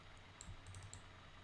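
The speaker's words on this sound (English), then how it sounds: "let's hit M on the keyboard" A few quick, soft keystrokes tapped on a computer keyboard during 3D modeling work, faint clicks in a quiet room with no talking.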